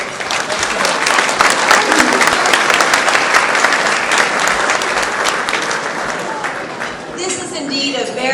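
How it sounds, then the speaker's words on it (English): Large, sustained round of applause at a memorial honor guard ceremony for a long career celebration, dense clapping from a big crowd filling the room steadily before easing slightly near the end. "Please, another large round of applause."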